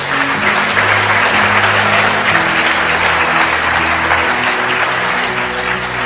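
A motivational talk audience gives loud, sustained applause, many hands clapping in a thick continuous roar with a low droning hum underneath, holding strong for the whole stretch.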